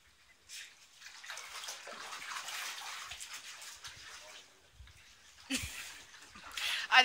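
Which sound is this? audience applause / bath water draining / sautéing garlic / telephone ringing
bath water draining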